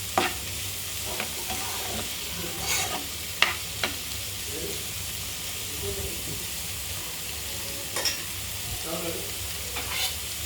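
A leafy vegetable curry cooks on low heat in a pan, giving a quiet, steady bubbling hiss with a low hum beneath and a few sharp clinks and scrapes of a lid or spoon scattered through.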